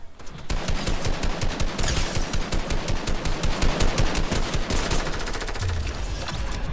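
Rapid automatic gunfire from a video game fires in a steady, dense stream of loud bursts, continuous for several seconds with no talk over it.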